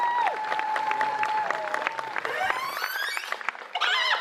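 Audience at a cosplay contest in Nantes claps steadily for a contestant dressed as Link, a dense, sustained round of applause with a few whistles or voices rising over it near the end.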